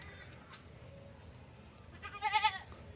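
Goats on a small farm, several of them pregnant, with a single clear, wavering bleat near the end that stands out from a quiet, low background.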